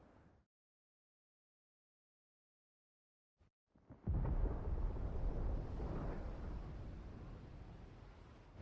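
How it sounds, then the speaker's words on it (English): Deep rumbling thunder from Final Fantasy XVI bursts in after a near-silent stretch, then rolls on loud and sustained for several seconds, with no voices. "Sounds like thunder."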